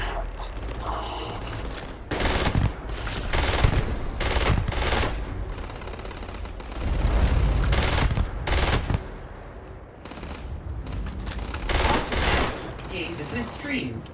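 Rapid bursts of automatic fire from the Revenant weapon in Starfield, with several loud, rattling volleys separated by short pauses and quieter stretches with faint voice in the background.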